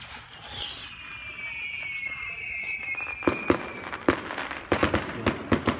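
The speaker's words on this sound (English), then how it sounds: "Oh, they're just playing fireworks." A rising whistle streaks upward, then a rapid series of crackling firework pops and bangs follows, growing denser toward the end.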